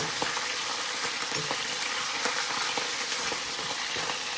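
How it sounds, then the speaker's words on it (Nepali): Fish fries in hot oil, a dense, steady sizzle with small crackles and pops running the whole time, close and unbroken, with no voices over it. "यहाँ चाहिँ माछा फ्राई हुँदैछ"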